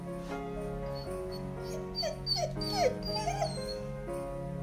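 A puppy whimpers and yips in a series of high, wavering whines that rise and fall, close and fairly loud over a steady low household hum, without talking.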